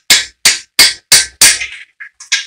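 A nylon-headed hammer taps the main bearing caps on an engine block during a GT40 build: five sharp, evenly spaced knocks, then a few lighter, quicker taps, close and loud with no talking.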